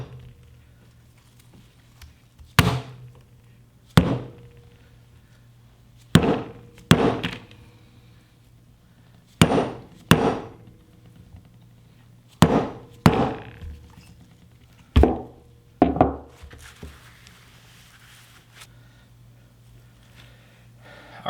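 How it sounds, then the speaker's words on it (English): Hammer tapping a socket to seat a piston in a Mazda RX-7 FD rear brake caliper during a rebuild: about a dozen sharp metallic taps, several in quick pairs, spaced a second or two apart over a quiet workshop background. "I'll use the hammer and the socket to kind of get everything lined back up."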